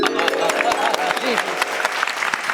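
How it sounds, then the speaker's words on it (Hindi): Studio audience applause during a Hindi family comedy drama, Chidiya Ghar, steady clapping for the full stretch with voices and tonal sounds layered over it. "तालियां।"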